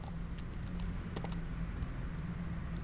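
Continuous typing on a computer keyboard while entering code in RStudio, with soft, steady key clicks and a few sharper taps over a low background hum, no voices.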